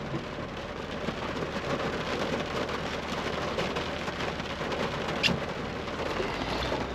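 Steady rain falling, a dense broadband hiss of drops hitting surfaces, with one brief sharper patter near the end and no voices.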